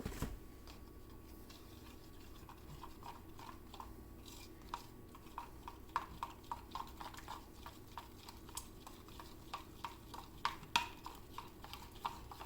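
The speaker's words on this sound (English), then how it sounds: "Just mix this completely." A loofah soap mixture is stirred in a container, making a series of soft clicking, tapping strokes at an irregular but steady pace, quiet and close with no voices.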